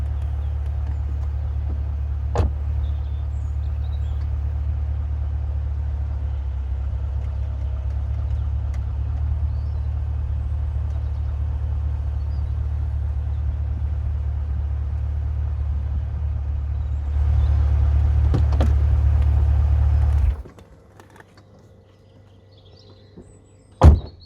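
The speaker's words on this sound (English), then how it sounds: "Here's a CL500 feature that I've not shown you yet, the ABC suspension" Mercedes-Benz CL500 V8 with ABC hydraulic suspension raising and lowering, a steady low pump hum that drones for about twenty seconds, then cuts off, leaving a quiet interior and a final faint clunk.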